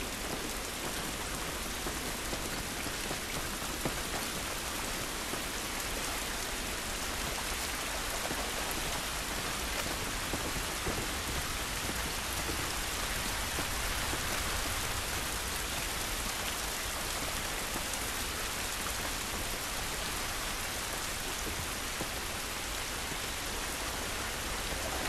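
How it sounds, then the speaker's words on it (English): Steady rain in The Last of Us video game, a dense continuous hiss of drops falling on surfaces that holds evenly loud throughout, with no voices. "This rain ain't gonna do us any good."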